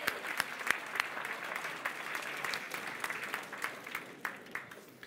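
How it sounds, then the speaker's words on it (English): Applause from an auction crowd at a Lincoln charter auction, steady dense clapping with a few sharper individual claps standing out, sustained for several seconds without speech. "so big round of applause for them."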